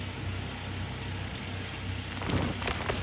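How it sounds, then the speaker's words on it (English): Rain in the video game Gold Rush: The Game, a steady soft hiss of falling rain with a faint low rumble, quiet, with a brief burst of louder patter near the end. "It's actually raining in the game?"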